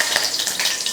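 Mustard seeds and curry leaves crackle and sizzle in hot oil in a kadai, a dense, bright spattering burst over a second.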